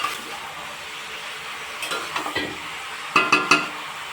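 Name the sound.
stirring mutton curry in a pan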